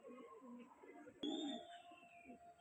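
Kalanka Punjabi pigeons cooing softly and steadily, a low murmuring coo running throughout with one brief louder burst midway, fairly close.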